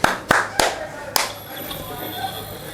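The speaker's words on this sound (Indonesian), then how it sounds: "Sekali lagi kita coba, mungkin ada yang tepuk tangan lagi" A few sharp, close hand claps, four distinct strikes in quick uneven succession within the first second and a half, in a workshop testing a microcontroller noise alarm, followed by a lingering electronic hum.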